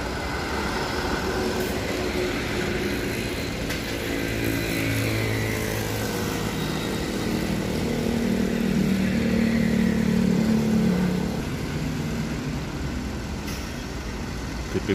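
A convoy of trailer trucks, Hino Dutro and UD Quester, rolls past with a loud, sustained engine drone and low rumble that swells in the middle and eases off toward the end.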